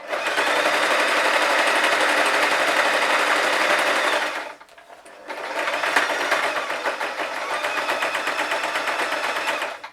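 Sewing machine stitching a seam on a puppy-ears hat, a loud steady whir for about four seconds, a brief pause, then stitching resumes at a slightly lower, even level to the end.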